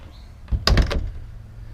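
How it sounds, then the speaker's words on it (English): A door on a 1961 Taylor Dunn Trident electric car swings shut and latches with a short clattering thunk, close and moderately loud, in a quiet space. "overall you see how the doors latch"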